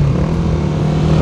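A Honda CBR150R fitted with a Daytona GP Taper exhaust and dB killer drones steadily while riding, a loud continuous engine hum with a sustained low tone lasting just over a second.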